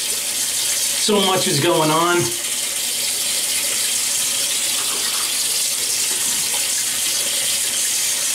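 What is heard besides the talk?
water running from tap to wet face before shaving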